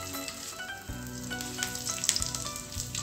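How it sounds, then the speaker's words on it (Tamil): Curry leaves crackle and sizzle in hot sesame oil in a pan, a steady close frying hiss with sharper pops, no voices. "எண்ணெய் காஞ்சதுமே நம்ம சுத்தம் பண்ணி எடுத்து வச்சுருக்கிற கருவேப்பிலையை சேர்த்துடலாம்."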